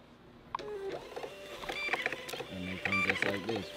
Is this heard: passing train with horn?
no